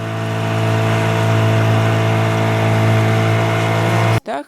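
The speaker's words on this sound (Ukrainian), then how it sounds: "рухається катер" A motorboat engine drones loudly and steadily, then cuts off abruptly near the end with a brief sputter.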